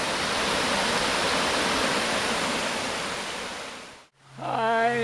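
Flat Rock Creek flowing through woods, a steady broad rushing wash of water that holds evenly for about four seconds, then cuts off abruptly before a different tonal sound begins.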